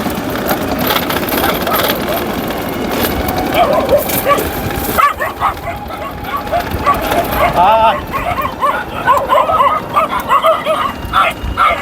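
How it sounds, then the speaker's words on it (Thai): Several dogs bark, yip and whimper loudly and repeatedly close by while people talk over the commotion. "หมาเห่าสนั่นทุกท่าน"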